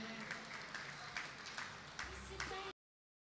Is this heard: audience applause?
yes